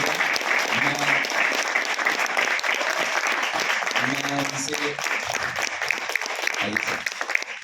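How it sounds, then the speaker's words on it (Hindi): Enthusiastic audience applause at a National School of Drama event as a guest is invited on stage, loud continuous clapping with a few voices speaking over it at moments. "जोरदार तालियां।"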